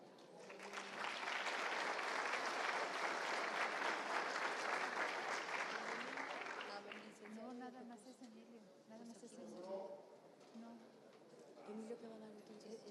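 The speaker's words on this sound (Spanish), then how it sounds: "Damos un fuerte aplauso." A conference audience at a Mexican event on cannabis regulation gives sustained loud applause for about six seconds, which fades as talking and chatter take over.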